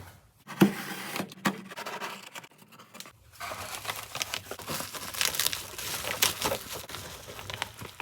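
Packaging for an F-150 Autostop Eliminator crinkles and rustles as it is handled and opened, with irregular close crackling and tearing bursts that become denser in the second half.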